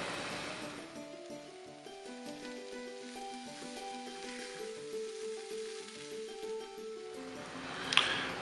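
Chopped chicken thigh sizzles in a pan while being stirred, a continuous hiss and crackle under a low steady hum, with a short louder spatter near the end.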